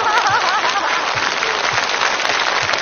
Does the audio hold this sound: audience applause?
yes